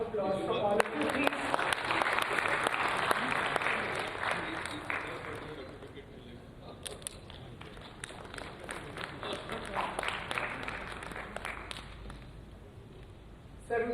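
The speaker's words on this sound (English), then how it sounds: "Can I have a round of applause from all of you," Seminar audience giving a round of applause, a loud dense burst of many hands clapping that swells, thins into scattered claps, then picks up again, with people talking over it at times.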